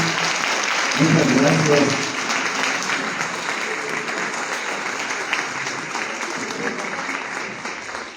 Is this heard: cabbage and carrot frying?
no